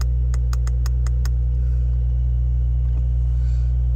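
A Porsche 911 Carrera S coupe of the 992 generation, 3.0 litre turbocharged petrol with PDK, idling: a steady low engine rumble that holds evenly throughout, with a quick series of faint clicks near the start.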